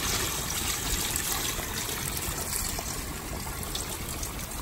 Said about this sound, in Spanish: Para nomás echarlo a la de este, le vamos a echar agua.